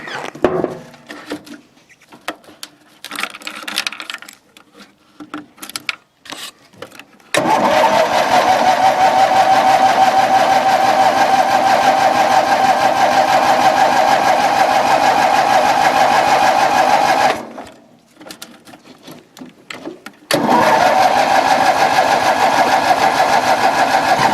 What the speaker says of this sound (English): let's see if this thing will start. Just put a bunch of gas in it, so hopefully it will.